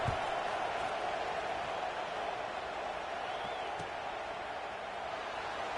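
A subdued stadium crowd murmurs in the NCAA 26 football video game at a UGA vs. Washington matchup, a steady broad wash of distant voices and noise without sharp cheers.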